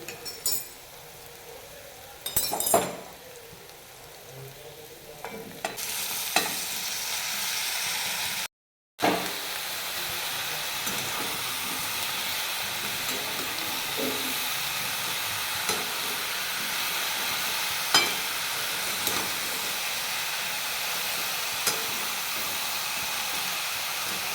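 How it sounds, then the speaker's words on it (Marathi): Green chillies and cooked pumpkin sauté in hot oil, giving a steady broadband sizzle and hiss with a few spoon clinks and stirring scrapes early on, one brief dropout midway, and no talking. "मिरची छान तेलामध्ये परतवून घ्यायची नंतर याच्यामध्ये मी शिजलेलं डांगर टाकते"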